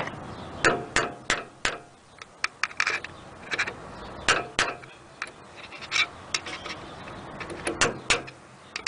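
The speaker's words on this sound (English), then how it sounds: "I'm using a flathead screwdriver and a hammer" Sharp metal taps land in irregular bursts, a hammer striking a flathead screwdriver again and again at close range to unstake a Toyota Sequoia inner tie rod, with short pauses between the clusters.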